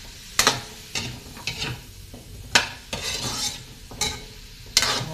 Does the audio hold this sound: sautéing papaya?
yes